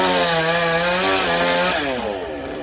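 Chainsaw cutting through a branch of a large Xà Cừ tree next to a house roof, a loud continuous whining drone whose pitch sags and wavers as the chain bites into the wood.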